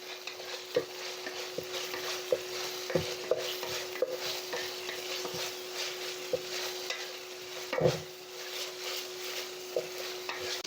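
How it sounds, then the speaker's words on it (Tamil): Ginger garlic paste sautéing in a pan, a soft continuous sizzle broken by repeated stirring scrapes and light knocks of a utensil against the pan, close and with no speech. "இஞ்சி பூண்டு பேஸ்ட்டுடைய பச்சை வடை வந்து நல்லா போகிற வரைக்கும் வதக்கி விட்றோம்"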